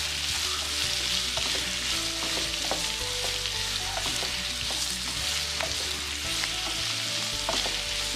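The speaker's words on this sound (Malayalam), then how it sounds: "ഇനിയൊക്കെ നന്നായി വഴന്ന് വരട്ടെ." Squid and sliced onions sautéing in a pan for a Kerala-style squid roast, a continuous loud sizzle with stirring scrapes, no talk.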